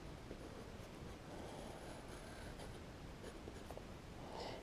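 Pencil lead scratching steadily across paper, sketching a flower on an Osmo Genius Kit drawing board, a soft continuous rasp close by with no talking.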